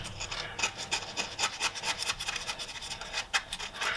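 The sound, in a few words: scraping thermostat housing surface clean with a razor blade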